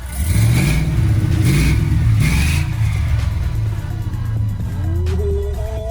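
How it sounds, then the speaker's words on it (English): Car engine with a Flowmaster 40 series 3-inch exhaust revs loudly and close by, giving deep throaty rumbles with repeated rising blips before settling into a steady idle. "40 series flow master, 3 inches exhaust speed engineering"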